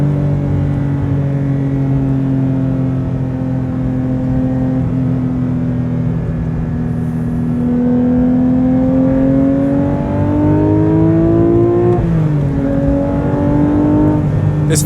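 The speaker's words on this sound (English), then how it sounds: "My 987 Spider, I turn the key on, PSM off, sport mode on, exhaust on, I go." A Porsche 987 Spider with sport exhaust and sport mode engaged, engine revving up steadily as it pulls through a gear, a close, loud rising drone with a brief dip near the end before climbing again.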